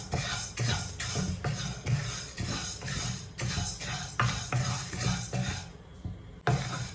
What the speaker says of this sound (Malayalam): അത് നന്നായിട്ടൊന്ന് വറുത്തെടുക്കണം